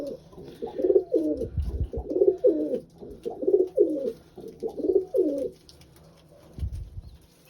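Pigeons give a series of about six soft, throaty coos in a steady rhythm, close by, with a couple of low thumps near the end.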